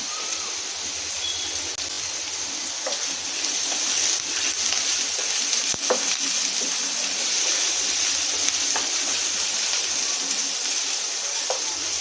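Grated ginger fries in a pan for momo chutney, a steady bright sizzling hiss with a few faint ticks and pops, continuous and close throughout, with no talking.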